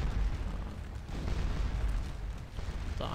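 Cannon artillery fire in the Napoleonic battle game Scourge of War: Waterloo, heard as a steady rumble of low booms that keeps going for the whole stretch without any talk over it.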